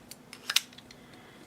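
A quick metallic snip or two of scissors, close and crisp, with a few faint clicks around it in a quiet room.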